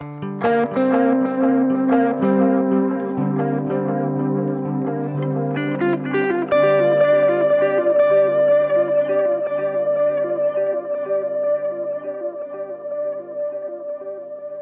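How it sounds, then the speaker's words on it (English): Electric guitar notes pass through a space echo delay, repeats trailing and smearing into a long sustained wash, loud and up close. "there's a preset that I like that's called Spaced Space Echo, which is just sort of like a beginning place for a stereo sound"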